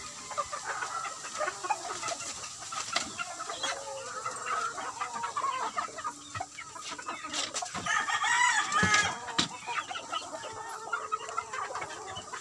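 Chickens and young chicks at a poultry farm raising game fowl cluck and cheep steadily, with a rooster crowing now and then amid the dense, busy flock noise.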